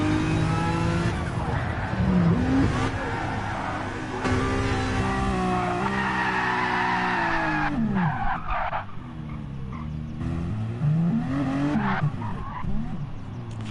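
A race car at Monza does a burnout to warm its tyres, with loud sustained tyre squeal and skidding over a revving engine that rises and falls for several seconds. Faint voices can be heard in the background.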